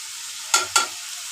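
Fried potatoes and okra added to a pan of spice masala for fish curry, with a steady close sizzle broken by two quick loud scrapes of a spoon.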